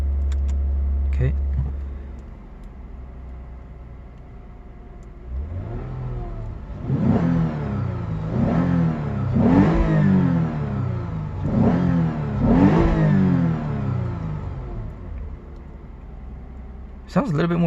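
A 2015 Lexus RC 350 F Sport fitted with a K&N high-flow air filter idles, then its engine is revved repeatedly in about five rising and falling surges, loud and close.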